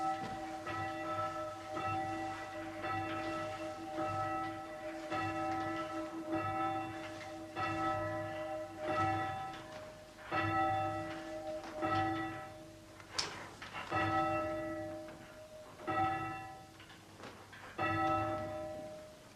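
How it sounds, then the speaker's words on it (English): Church bells rung by a team of bell ringers sound in a steady, repeating sequence of clear metallic strikes, each ringing out and overlapping the next, moderately distant and with no talk over them. "It's a poor ringer that can't raise his own bell."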